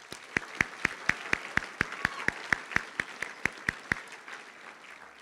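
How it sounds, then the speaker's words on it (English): Applause at a high school graduation ceremony, dominated by a loud, regular rhythm of single sharp claps, about four per second, over a softer bed of crowd clapping in a large hall, ending abruptly. "Would you please give them a round of applause?"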